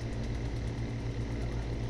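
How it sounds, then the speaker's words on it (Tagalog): A repaired Carrier floor-mounted indoor unit, roughly a 3-ton system with a DC fan motor, hums low and steady as its fan motor runs. The sound is faint and continuous with no voices. "Gumagana na yung ating pan motor."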